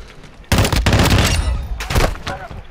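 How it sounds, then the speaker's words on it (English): Rapid automatic gunfire from a Call of Duty battle breaks out loud and close after a brief quiet moment, with dense overlapping shots continuing in bursts to the end. "You are taking effective fire."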